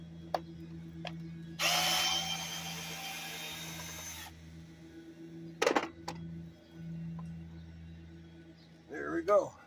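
A cordless power drill whirs in a steady burst of a couple of seconds during an AC unit teardown, followed later by shorter spurts and clatter in a quiet room.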